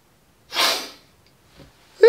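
One sharp, breathy sneeze bursts out, followed by a short pause and then a brief vocal sound.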